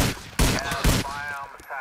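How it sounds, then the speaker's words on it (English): Gunfire in the video game GTA 4 rings out in a few sharp, loud bursts of shots close together, followed by ringing tonal tails. "I hear lots of gunfire."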